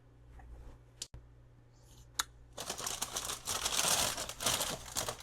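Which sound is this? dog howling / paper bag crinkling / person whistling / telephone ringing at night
paper bag crinkling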